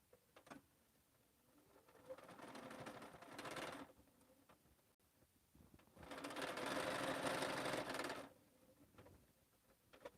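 A sewing machine stitches a quilt seam in two bursts, a short run followed by a longer steady one, with quiet pauses between.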